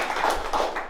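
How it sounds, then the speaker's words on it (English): A team claps together in a quick burst of sharp, overlapping hand claps, several close slaps in under a second. "Clap it up for that."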